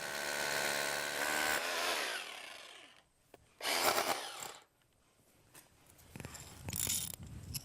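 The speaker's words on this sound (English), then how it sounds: "To secure the post base, I drill a hole for the concrete hold-down screw." A power drill whines loudly for a few seconds while drilling a hole in concrete, then stops; short bursts of harsh grinding follow with quiet gaps between them.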